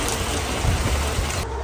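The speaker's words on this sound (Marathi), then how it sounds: "मध्येच थांबणं, परत जोराचा आला पाऊस" Heavy monsoon rain falls in a steady, dense hiss that stays loud and even throughout, with a low rumble underneath and no voices.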